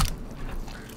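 A knife crunches through the rib bones of a halibut during filleting, one sharp close crack at the start followed by a brief softer scraping as the blade carries on.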